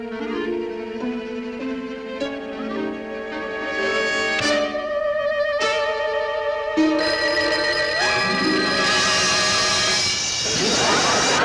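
A telephone rings in a 1960s sitcom scene, its loud bell sounding over layered, swelling background music that builds toward a crash at the end.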